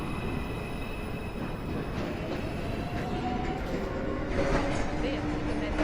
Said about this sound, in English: Is Uptown Express 5 train approaching the station.